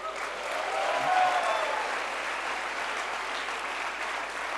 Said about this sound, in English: A big thank you with an applause.